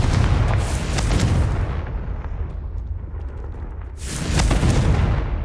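Confringo fire spell in Hogwarts Legacy bursting into a loud, broad roaring blast that fades, then a second heavy rumbling explosion near the end, close and dense.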